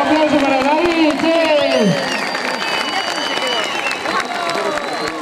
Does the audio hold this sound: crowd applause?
yes